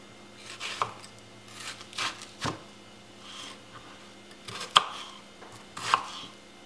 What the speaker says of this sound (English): And then I'm gonna just cut up the onion.